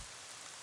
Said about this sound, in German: Es hat zu regnen angefangen